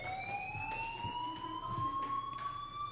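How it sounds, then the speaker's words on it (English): A fire alarm in the video game Life is Strange sounds as a steady, slowly rising electronic tone, fairly faint, over low background rumble and scattered soft thuds. "do you hear that fire alarm? That means you should be outside."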